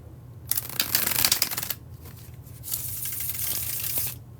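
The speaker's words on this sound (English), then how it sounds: "another bridge shuffle, the second and last bridge shuffle for the Aries collective" A deck of tarot cards is bridge shuffled close up, two bursts of rapid riffling flutter, the first brief and the second longer, each ending as the cards settle.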